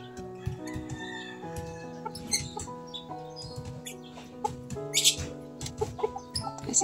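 Chickens cluck softly and peck while eating in a morning garden, with a steady run of low clucks and scattered sharp ticks and scratches, close and gentle.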